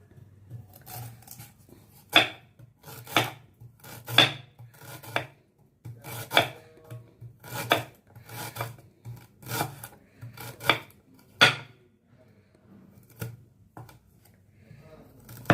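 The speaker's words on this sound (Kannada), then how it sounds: "ಶುಂಠಿ ಹೆಚ್ಕೊಳ್ಳೋಣ, ಹೆಚ್ಕೊಂಬಿಡೋಣ ಇದನ್ನು" A knife chops through fresh, fibrous ginger in a steady series of crisp, close cuts roughly one per second, some strokes sharper and louder than others, with no talking.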